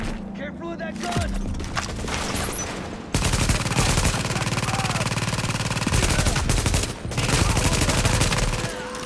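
Automatic and rapid gunfire from the video game The Division, loud and sustained in dense bursts with short breaks, over a game soundtrack with voices mixed in.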